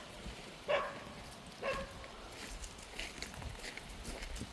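A dog barking outdoors at something it has found, two sharp barks a second apart followed by fainter yips and rustling movement, with no talking.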